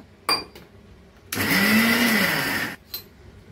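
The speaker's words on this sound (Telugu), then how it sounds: "వాటర్ వేసుకొని మిక్సీ పట్టుకోవాలి" A mixie grinder blends green chilli, peanut and salt chutney with water in one loud whirring burst of about a second and a half, set between brief clicks and handling knocks in a quiet kitchen.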